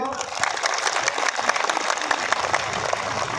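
Thousands of students at a mass self-defence training event clap for themselves, a loud, busy crackle of many hands with voices mixed in underneath.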